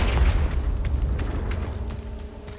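A Confringo fire spell explodes in Hogwarts Legacy, a loud, sustained booming blast with crackling, rumbling debris that fills the whole moment and slowly tapers without fading out.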